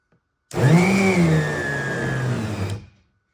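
Plastic being spin welded with a spinning bit, a loud, close whirring burst that starts abruptly, runs steadily for about two seconds with a slight pitch drop, then cuts off.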